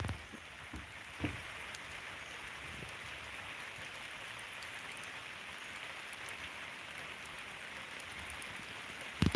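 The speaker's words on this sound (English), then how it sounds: "Yeah, the rain's picked up a little bit." Steady rain falls outdoors at an overcast Alaskan homestead, a soft continuous hiss with a few louder drip taps near the start and end, moderately faint and with no voices.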